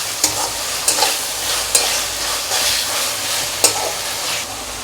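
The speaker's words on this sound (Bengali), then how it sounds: "এবার এর মধ্যে দিয়ে দেবো কুচি করে রাখা টমেটোগুলো, দিয়ে এবার টমেটোটা এই মশলার সাথে ভালো করে কষিয়ে নেব" Chopped tomatoes stir-fried with spice paste in a pan for a sardine curry make a continuous loud sizzle, broken by sharp clicks of the spatula about once a second.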